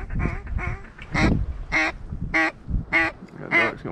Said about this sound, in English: Got ducks going everywhere out there.